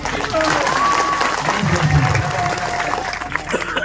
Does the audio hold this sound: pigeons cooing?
no